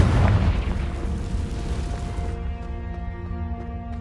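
Confringo blast spell in the video game Hogwarts Legacy: a loud booming explosion at the start that rumbles and decays over a few seconds, with a ringing tonal tail.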